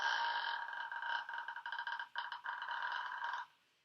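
A low, creaking vocal fry held for about three and a half seconds as a steady rasp with brief breaks near the middle, sung close and fairly loud in a vocal warm-up before extreme metal screaming.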